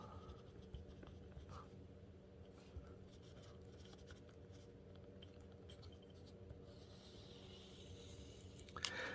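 A Rhodia scRipt mechanical pencil writes on paper with a steady, close, dry scratching that continues through the whole stretch. Faint scrapes and small taps come and go, and no one speaks.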